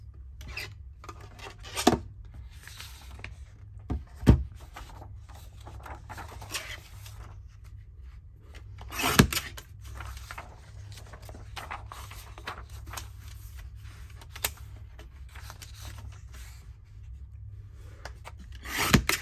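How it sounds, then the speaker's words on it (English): Paper being trimmed for journal cards in a French Rococo theme, a quiet rubbing, rasping drag with a few sharper clicks and snips spaced through a low background hum, close and soft. "So I do need to trim these up, otherwise I'm not going to be able to cut."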